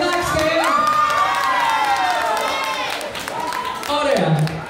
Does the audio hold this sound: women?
yes